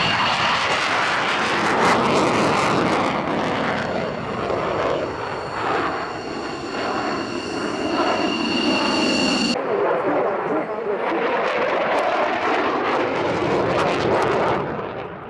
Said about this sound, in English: You can see the Eurofighter leaving the display line at about 45 degrees angle.